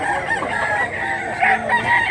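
A farm rooster crows loudly and close by, with clucking from the fowl around it and soft background noise, no talk.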